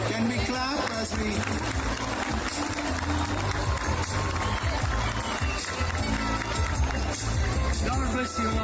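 Steady, dense applause from a large audience at a school's 50th anniversary celebration, continuous and loud from start to finish, with crowd murmur mixed in.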